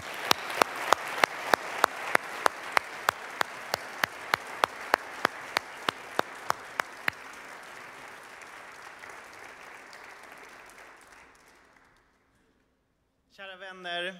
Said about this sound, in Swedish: Så låt oss välkomna Aaron med en riktigt varm applåd.